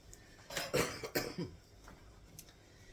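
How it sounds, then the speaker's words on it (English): A few quiet coughs close by, broken into short bursts over about a second, with faint clinks of dishes in the background. "I think I have my grandson's cough now"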